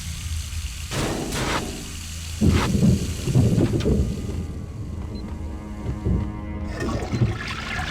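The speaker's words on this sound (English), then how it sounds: "I can flush the toilet, okay." A toilet flushes inside a hospital in the Max Payne 2 video game, a rushing gurgle of water in several bursts with trickling and mechanical clunks, fairly close and without talk.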